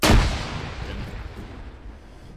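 A frag grenade exploding in a video game, one loud booming blast with a deep, rumbling tail that fades slowly over a couple of seconds, with no voices.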